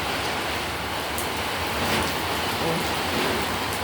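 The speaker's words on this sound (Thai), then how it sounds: "ฝนตกอย่างแรง พายุเข้า" Heavy rain pouring down in a steady, loud hiss during a storm, with gusts of strong wind rushing through it and no breaks.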